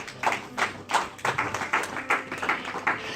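A church congregation claps to acclaim a priest, a ragged group applause with a loose rhythm and repeated close bursts of hand claps, with no talking.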